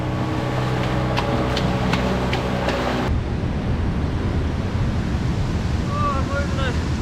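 Turbulent stormy sea churns under strong wind, a continuous loud rushing roar with heavy wind buffeting on the microphone; a low droning tone runs beneath it early on, then drops away.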